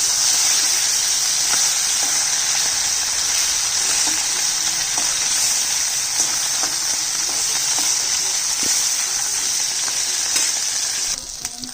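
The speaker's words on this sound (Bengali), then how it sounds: "একটা ভাজা হয়ে গেছে আর একটা একটা উল্টে দিচ্ছি" Fish frying in hot oil in a wok, with pieces being turned over: a loud, steady, close crackling sizzle that runs unbroken throughout, with no talking.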